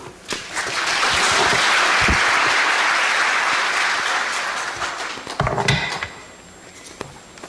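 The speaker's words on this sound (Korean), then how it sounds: "박수." An audience at a conference session applauds: the clapping swells quickly, holds steady for several seconds, then fades out, followed by a few handling knocks and rustles near the end.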